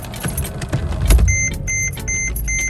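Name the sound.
Mercedes-Benz GL450 engine running after battery change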